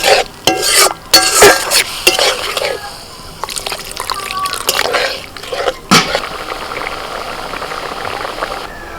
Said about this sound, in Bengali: মশলাটা ফুটছে